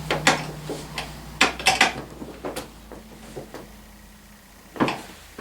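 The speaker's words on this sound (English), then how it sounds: "Take your 14mm ratchet and then just snug your bolt down on it." A 14mm ratchet snugs down a bolt during assembly of a Tao Tao CY150A scooter's steering column, giving scattered close metallic clicks and clunks with quiet gaps between them.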